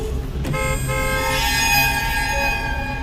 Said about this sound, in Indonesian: Aku mulai membunyikan klakson.